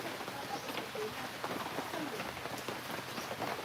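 Rain falls steadily outdoors, a faint, even patter with scattered drips and no voices over it.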